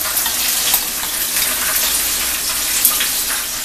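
Mojarra fish frying in hot oil, a steady bright sizzle with scattered pops and crackles, close and continuous throughout.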